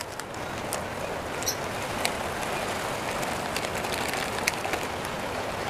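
Heavy rain falling outdoors, a constant close hiss of drops with occasional sharper patters, steady throughout with no talking.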